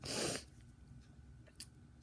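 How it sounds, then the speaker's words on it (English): A single sharp sneeze from a person indoors, loud and close at the very start, followed by quiet breathing and a faint sniff. "I'm gonna sneeze"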